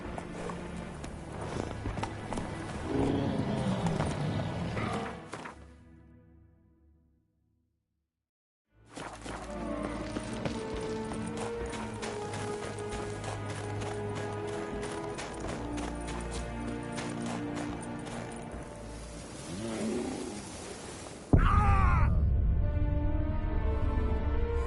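Horse galloping in The Witcher 3: Wild Hunt, a rapid steady run of close hoofbeats that fades out briefly, then resumes at full pace, ending with a louder burst of movement.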